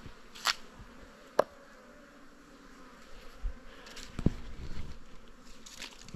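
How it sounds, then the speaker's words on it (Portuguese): Bees buzz faintly and intermittently on a sandy river island in the Juruena River, with a few brief close passes and small clicks over quiet outdoor ambience. "Oi, abelhas."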